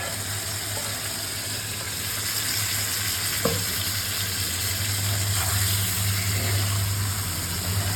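Whole spices frying in hot oil for a fish-head mashkalai dal give a steady, close, even sizzle, broken once by a brief clink of stirring.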